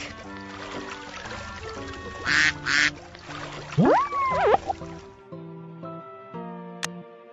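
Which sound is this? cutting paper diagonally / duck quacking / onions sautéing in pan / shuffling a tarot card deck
duck quacking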